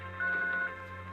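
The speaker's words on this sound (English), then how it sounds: "And that dial tone." A steady telephone dial tone hums from a landline handset, a continuous even tone that swells slightly louder for a moment before settling back, heard alone without speech.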